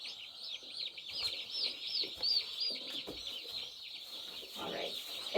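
Chickens and turkey chicks on a farm on their first day, with a steady chorus of high chirping and peeping and occasional clucks, fairly close and continuous throughout.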